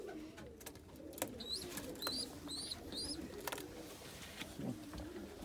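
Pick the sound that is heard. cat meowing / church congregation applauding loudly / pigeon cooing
pigeon cooing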